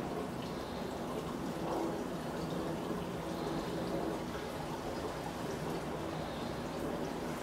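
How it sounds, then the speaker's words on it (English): Two cups of boiled water being poured slowly into a container for growing ferns from spores, a soft continuous splashing and trickling that stays fairly quiet throughout. "then we pour it slowly into the container."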